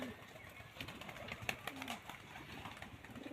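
Young Budapest pigeons in a loft coo and shuffle faintly, with soft wing flutters and scattered clicks over a quiet, hissy background.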